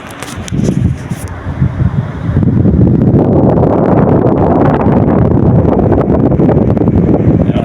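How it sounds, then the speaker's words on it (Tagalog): Air rushes steadily from an air conditioner blower, a loud, even whoosh that begins after a brief rustle and holds continuously without breaking up. "yung tunog ng hangin na lumalabas dito sa may blower"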